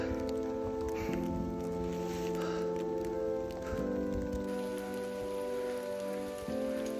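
Steady rain pours on the Suwanting trail of Mount Merbabu, a dense, close patter and hiss with a sustained low tonal hum running underneath.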